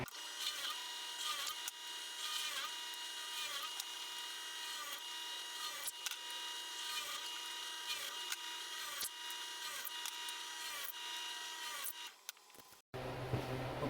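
Holes are drilled into wood boards for a channel strut lumber rack, a steady close-up whine of the drill running continuously with repeated brief dips in pitch, then cutting off near the end.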